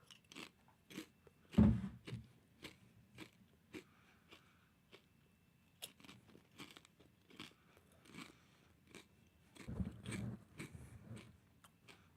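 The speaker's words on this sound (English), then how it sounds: "Little bowl of chips." Potato chips eaten from a small bowl: repeated crisp crunches and bites spread across several seconds in an irregular chewing rhythm, close and quiet, with a couple of louder crunch bursts.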